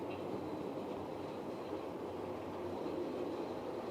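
Steady low rumble of a passing locomotive train, continuous and fairly faint, with no voices.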